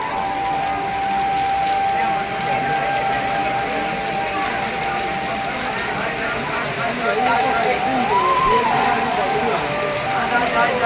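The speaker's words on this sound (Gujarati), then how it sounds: "જો મિત્રો વરસાદ તો વધતો જ જાય છે, નામ બંધ થવાનું નામ જ લેતો નથી" Heavy monsoon rain pours steadily at Ramdevra (Ranuja) where pilgrims are stranded near flooded railway tracks, a dense continuous hiss of falling water with a voice talking faintly underneath.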